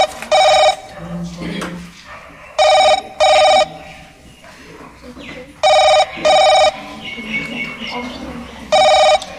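A telephone rings in repeated double bursts during a phone-a-friend call in a college quiz modeled on Kaun Banega Crorepati, the loud electronic rings alternating with quieter background voices and hall noise.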